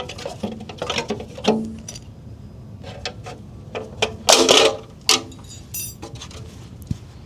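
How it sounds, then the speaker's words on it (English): A plastic wheel cover being pried off a Tesla Model Y Juniper wheel gives a scatter of sharp clicks, snaps and light rattles, with a few louder pops near the end, all fairly close. "then we can go ahead and slowly make our way toward the middle and try to pry off the entire wheel cover"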